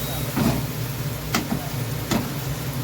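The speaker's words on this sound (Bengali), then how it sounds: "এবার এটাকেও একটুখানি ভাজা ভাজা করে নেবো পেঁয়াজটাকে।" Onion frying in a pan, a steady close sizzle with a low background hum and a few brief scraping stirs of a spatula.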